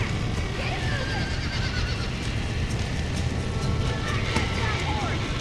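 A horse whinnies in Red Dead Redemption over steady hoof clip-clop and background noise, with voices talking along with it throughout.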